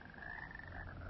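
Frogs croak steadily through a TV campaign ad, a soft continuous chorus heard alone behind faint background sound.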